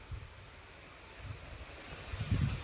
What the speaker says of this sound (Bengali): জোর বাতাস দিচ্ছে এখন।